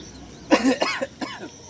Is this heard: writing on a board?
no